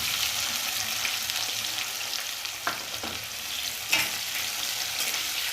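Sliced onions fry in oil for an achari pumpkin curry, a steady close sizzle broken by a few sharp scrapes of a spoon stirring the pan, with no voices.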